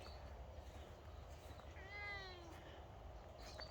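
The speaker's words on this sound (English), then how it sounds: "There's one of the cats." Outdoors in a garden, a cat gives a single drawn-out meow, moderately faint over steady background noise.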